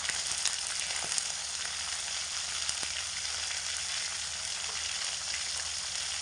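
Hilsa fish heads fry in oil with salt and turmeric, putting out a continuous even sizzle with faint crackles and spits throughout, close up and with no one talking.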